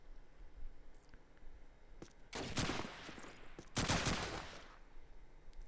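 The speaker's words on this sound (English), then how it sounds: "M1 bullets ping off the brickwork" Two loud, close bursts of M1 rifle fire in a Call of Duty 2 multiplayer match, with bullets pinging off brickwork, separated by a short pause and set against a low background murmur.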